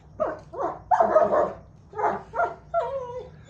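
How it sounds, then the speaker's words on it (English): A pet dog at home gives a short run of close barks, yips and a whimper in quick bursts over quiet room noise. "Sorry, that's my dog Cyrus"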